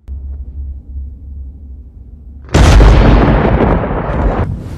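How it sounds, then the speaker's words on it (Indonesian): A sudden, loud crack of thunder in a nighttime thunderstorm breaks over a quiet low rumble, then rolls on as a broad, sustained roar for several seconds. "Malam itu ada badai petir."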